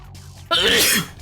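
A single sharp sneeze bursts out after a brief quiet lead-in, loud and close, then trails off.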